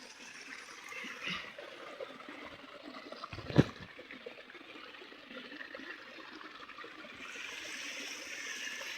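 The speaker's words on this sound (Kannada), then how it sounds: "ಇಲ್ಲಿ ಕಾಣಿಸ್ತಿದೆಯಲ್ಲ, ಸೊ ಇಲ್ಲಿಂದ ನೀರು ಬರುದು." Water flows in a steady, soft trickling rush throughout, with one sharp knock partway through.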